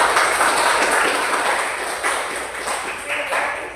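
Classroom applause for a fellow student during an economics teaching session at Universitas Negeri Gorontalo, a steady wash of many hands clapping at moderate loudness, continuous throughout with a faint murmur of voices underneath.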